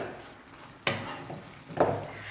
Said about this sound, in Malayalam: ഇനി ഇതിലേക്ക് നമുക്ക് അരച്ചു വെച്ച നേന്ത്രപ്പഴം ചേർത്ത് കൊടുക്കാം